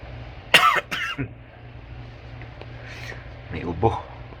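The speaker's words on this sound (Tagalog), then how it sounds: "May ubo." A person with a dry cough and sore throat coughs a few sharp times in a quick cluster, then more softly again later, close and indoors with faint background hum.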